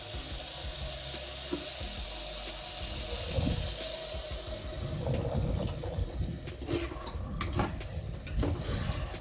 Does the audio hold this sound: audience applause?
no